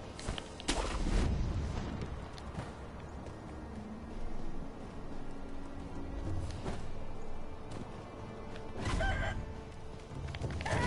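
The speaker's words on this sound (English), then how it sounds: "These are not crows, they're clearly chickens." Chickens cluck and squawk in Sekiro, coming in scattered bursts over a busy game soundscape, with a few louder outbursts rising above the background.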